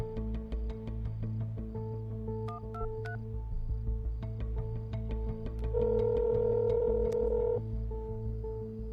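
A phone number is punched in as a quick run of short DTMF keypad beeps, with one longer tone partway through, heard clearly and fairly quietly without any talking.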